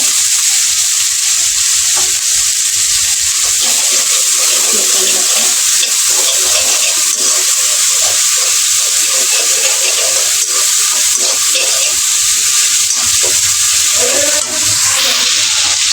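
Potato and ginger paste sautés in a pan with a loud, continuous hiss of frying and scattered scraping stir strokes throughout, close and steady.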